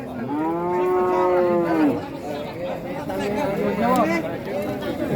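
Bulls and other cattle at a crowded livestock market in Purwantoro, Wonogiri, low out loud, one long drawn moo then a shorter one, over a busy chatter of many voices.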